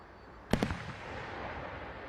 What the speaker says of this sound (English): This weekend we saw fireworks soaring over the skies of Winchester